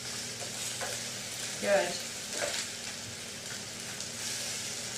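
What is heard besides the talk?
mushrooms frying in a pan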